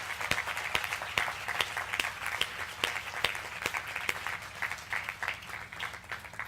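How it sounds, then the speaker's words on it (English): An audience at a morning session of the Ati Rudram Maha Yajna gives a round of applause for training-session attendees, a moderately distant, sustained patter of many hands with individual sharp claps standing out. "please raise your hand, give them all a big hand of applause"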